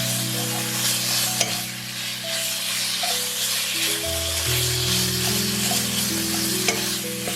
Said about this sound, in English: Stir fry until the pork is lightly browned and fully cooked.